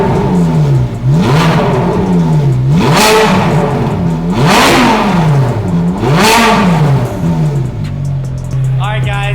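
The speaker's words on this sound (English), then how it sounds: "that is the stock exhaust on the 430 Scud" Ferrari 430 Scuderia on its stock exhaust revving repeatedly, four loud rising-and-falling blips in a steady rhythm before settling to idle, with a brief metallic rattle near the end.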